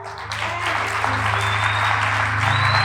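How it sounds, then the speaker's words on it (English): A crowd claps continuously and steadily at a church service, a dense wash of applause filling the whole moment with no pause. "Can you just clap for Jesus"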